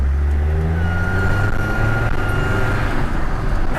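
Land Rover TD5 diesel engine with a leaking exhaust manifold, a loud droning engine note under load with a thin sustained squeal riding over it, close and continuous.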